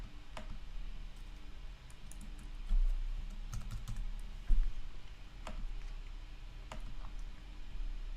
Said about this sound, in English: And I can type in my name.